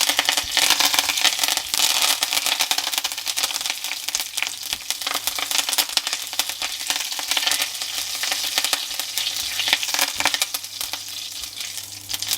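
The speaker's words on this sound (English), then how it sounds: "Once the mustard seeds start spluttering, we're going to add in our curry leaves" Mustard seeds and curry leaves crackle and splutter in hot oil, a dense, continuous sizzle with sharp pops scattered throughout, fairly close and steady with no talking.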